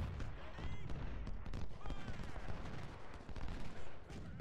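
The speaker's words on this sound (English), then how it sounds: "So they just fired a round of canister. We got our own volley off." Battle audio from the Civil War strategy game Ultimate General: Civil War, a canister round and a rifle volley crackling amid dense, continuous gunfire and rumbling, loud and layered with scattered sharp reports throughout.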